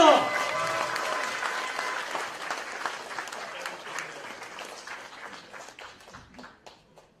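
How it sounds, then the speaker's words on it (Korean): A crowd applauds steadily at a political campaign office opening speech, dense clapping that starts loud and gradually tapers off over several seconds. "여러분 모두 큰 박수 한번 다시 부탁드리겠습니다."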